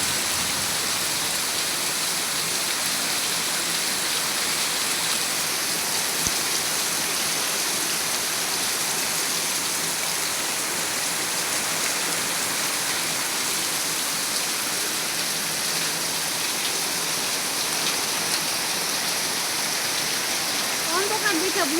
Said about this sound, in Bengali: এখন অনেক জোরে বৃষ্টি নামছে মাগরিবের পর পরই